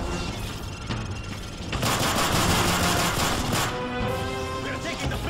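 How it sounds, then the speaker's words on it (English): Rapid automatic gunfire bursts loud and close in Call of Duty Modern Warfare 3, a dense sustained volley building in the middle with sharp reports and crashes, voices shouting beneath the shooting. "Gunfire!"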